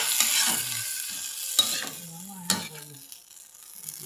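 Kangkong and mushrooms sautéing in a pan, with a bright sizzle and stirring scrapes that fade after the first half, two sharper utensil knocks breaking through and a faint background voice.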